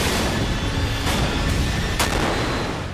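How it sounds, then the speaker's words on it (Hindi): A supersonic BrahMos missile fired from a Sukhoi-30 jet roars as a sustained loud blast of noise, with sharp cracks standing out partway through. "सुखोई 30 से सुपरसोनिक ब्रह्मोस मिसाइल के दागने का परीक्षण किया गया था"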